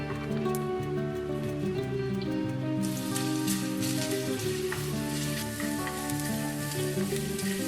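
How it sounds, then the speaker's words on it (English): Hot ghee tempering with julienne ginger is ladled over mutton nihari stew and hisses sharply, a dense, even sizzle close by that keeps crackling with no talk. "a sizzling ghee tempering called badar, infused with julienne ginger, is ladled, hissing as it hits the lucky chunk of meat on top"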